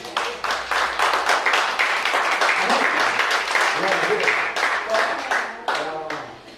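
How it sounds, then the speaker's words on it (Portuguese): A church congregation claps together during a worship service, a dense burst of applause lasting several seconds with voices and shouts mixed in. "Pode aplaudir o Senhor Jesus"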